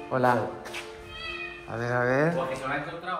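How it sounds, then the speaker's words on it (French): Two high, plaintive kitten meows close by, the second longer and rising, with a thin tone and quiet background. "est-ce que j'entends un chaton?"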